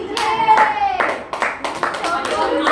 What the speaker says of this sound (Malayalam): ഒരു നല്ല കയ്യടി